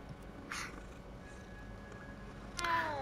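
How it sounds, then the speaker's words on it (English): A cat meows in the video game Hogwarts Legacy, two short faint mews about two seconds apart, the second slightly louder, over a low ambient game bed. "Kitty! I want to pet the kitty."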